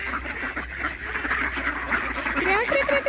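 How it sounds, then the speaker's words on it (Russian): Several ducks quack repeatedly nearby at a zoo amid outdoor ambience, a steady chorus of nasal calls. "Смотри, сколько много уток."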